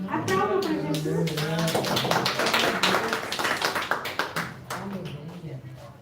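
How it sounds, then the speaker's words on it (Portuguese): A church cell-group congregation claps and cheers together, bursts of close, loud applause mixed with voices and shouting. "Aplauda pra Jesus."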